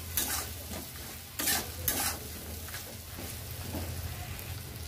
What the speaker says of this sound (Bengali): সবজিগুলোর সাথে একটু ভালো করে কষিয়ে নেব।